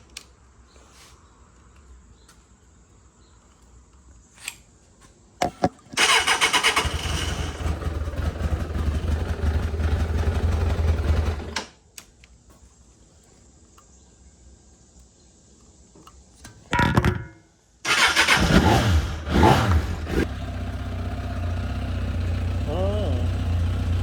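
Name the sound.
1998 Suzuki GSX750F Katana motorcycle engine starting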